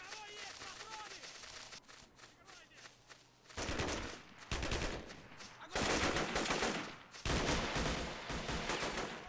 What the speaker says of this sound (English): Really love the gun sounds.